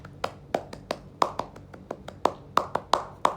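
One person performs the Indonesian scout clap (tepuk pramuka), about a dozen crisp hand claps in an uneven rhythmic pattern, close to the mic with a faint background hum.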